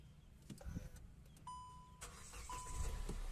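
A 2017 Hyundai Creta SX+ 1.6 diesel is started from inside the cabin. A few dashboard chimes and electronic tones are followed by a faint, low engine rumble that settles into a quiet, steady idle.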